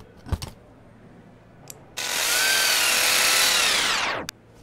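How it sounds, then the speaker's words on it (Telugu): A power drill driving screws in a movie scene, a brief tap first, then a loud close whirring burst of about two seconds that winds down abruptly, with no talk. "మార్చేసిన చోట స్క్రూలు డ్రిల్ చేశారనా?"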